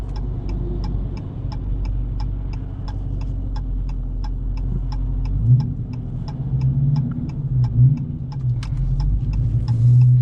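A Dodge Challenger R/T engine hums steadily inside the cabin, then revs rise and fall as the six-speed manual changes gears, with a regular ticking indicator throughout.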